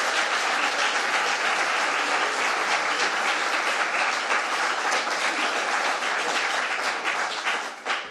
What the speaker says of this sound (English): can we have one more round of applause for our fabulous winners?